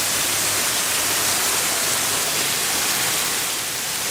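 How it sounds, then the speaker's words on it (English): A waterfall pours into an aviary at the KL Bird Park in Kuala Lumpur, giving a dense, loud, steady hiss of falling water heard up close for several seconds without voices. "And under the waterfall we go."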